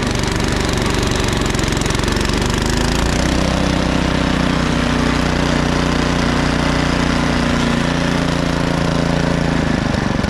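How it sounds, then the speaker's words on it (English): An MTD-made Troy-Bilt or Cub Cadet entry-level snowblower engine runs loud and close throughout, its steady roar sagging in pitch as it bogs down and the speed drops. "almost seems like engine speed is dropping at this point"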